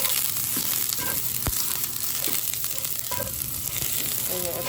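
Garlic sizzling in a hot pan in a home kitchen, a steady broadband frying crackle throughout with a few brief clinks and stirring scrapes, no talking.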